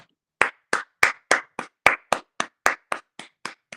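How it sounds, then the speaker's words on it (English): One person claps alone in a steady series of about a dozen sharp, evenly spaced hand claps, close and crisp, with no talk. "I have to always give him an applause."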